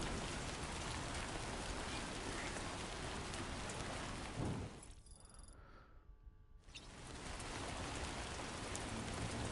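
Steady heavy rain falling in the video game Death Stranding 2 fills the scene as a dense broadband hiss, briefly dipping and muffling for a couple of seconds before returning at full strength.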